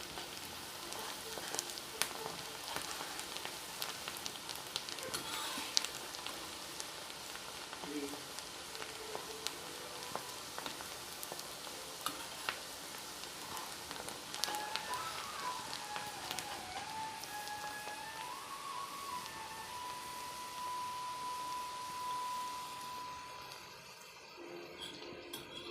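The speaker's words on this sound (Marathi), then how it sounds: "काळ्या तव्यामध्ये आणि 2-3 पळ्या तेल टाकले आणि मस्त याला आता तळून घ्यायचे थोडंसं लालसर होईपर्यंत" Six or seven chopped onions frying in two or three ladles of oil on a black griddle, a steady close sizzle with scattered crackles running throughout, easing off near the end.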